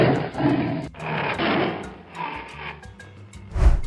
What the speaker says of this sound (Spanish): Este es el tigre, el felino más grande.